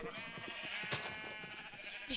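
Sheep bleating in the Minecraft video game, a wavering bleat at moderate volume over faint background game sounds.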